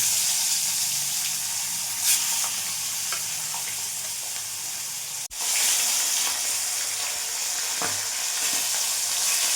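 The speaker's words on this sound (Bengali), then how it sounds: "এবার মাছগুলো দিয়ে দেবো।" Turmeric-coated pomfret pieces frying in hot oil in a kadai: a bright, close sizzle with steady crackling, occasional clatters, and a brief dip around the middle before the hiss returns.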